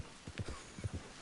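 Hooves of a ridden horse in Red Dead Online thud in a quick, uneven clip-clop, several soft near strikes over a faint ambient bed.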